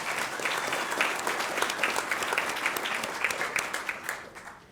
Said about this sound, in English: Can we do one more round of applause for all of these runners-up, please?